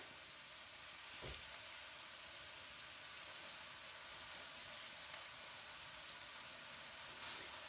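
Kale and Chinese cabbage sizzle in a pan as a faint, steady hiss of frying, with no voices.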